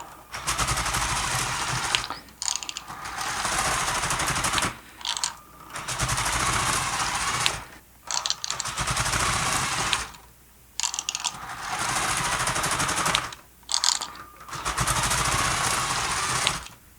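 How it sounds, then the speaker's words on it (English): A LEGO 20-T Conveyex model runs under its motors, giving steady whirring, clicking mechanical bursts of several seconds each, broken by brief pauses, fairly loud and close with no talking. "Right now the engine runs really well."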